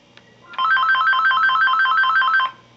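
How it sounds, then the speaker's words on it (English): A mobile phone ringtone sounds in a quiet room where a polymer clay miniature turkey is being made, a bright electronic warble repeating in a fast even pulse for about two seconds, loud and alone, then stopping. "oh, that's my phone."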